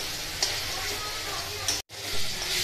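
Ground spice masala with green chilli, coriander, cumin, turmeric and chilli powder sizzles in a pan for chana masala while being stirred, a steady close hiss with a brief cutout near the end.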